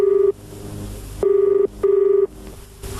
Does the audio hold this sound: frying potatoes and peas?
no